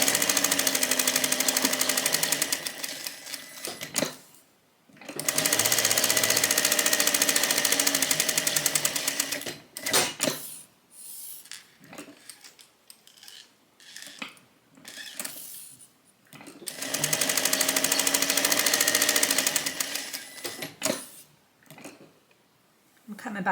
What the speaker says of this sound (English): Sew all the way around and then stop up here.